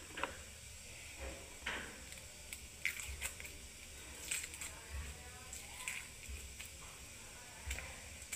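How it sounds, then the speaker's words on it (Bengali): Onions are sliced one after another with a knife in a home kitchen, giving soft, faint, irregular cutting taps over a quiet room background. "এই দেখুন বন্ধুরা পেঁয়াজ এরকম করে আমি সব কেটে নিচ্ছি একে একে।"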